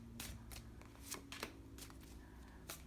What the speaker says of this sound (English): Try not to make a lot of shuffling noise.